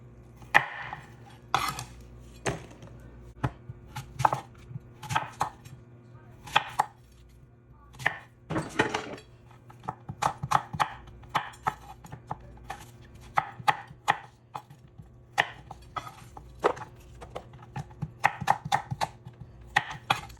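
Apples are cut up on a board for an apple cobbler, with sharp, irregular knife chops and taps landing close by in short clusters, separated by brief pauses, and no talking.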